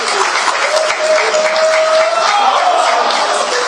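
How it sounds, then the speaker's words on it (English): Dense, steady applause from a large audience at a political opposition summit in Nigeria, loud and continuous throughout with a faint crowd murmur underneath. "A round of applause for him."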